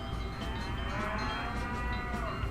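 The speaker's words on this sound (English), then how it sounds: "That's the sound of happy cattle" Cattle moo in a radio ad inside the Nancy Drew video game The Secret of Shadow Ranch, a few long, low, overlapping calls ringing out over a steady, dense ranch background.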